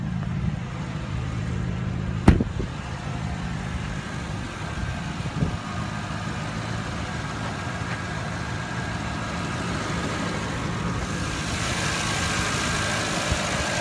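A 2016 Porsche Cayenne Turbo with a 4.8-liter twin-turbo V8, aluminum block and direct injection, idles steadily under an open hood, with a low continuous rumble and one sharp click early on.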